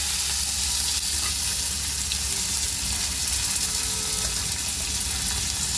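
Curry leaves sizzle in hot oil for a Marathi-style suran (elephant foot yam) patty tempering, a steady close crackling fry that stays loud and even throughout with no talking.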